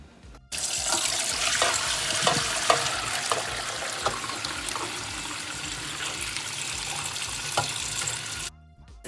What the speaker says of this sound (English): What we're going to do is we're going to strain it off.